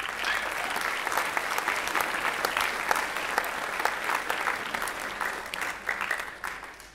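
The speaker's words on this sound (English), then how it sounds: "Please give them a round of applause." Audience applause at a school concert band spring concert, a sustained, dense crowd clapping heard up close that carries on for several seconds and tapers slightly at the end.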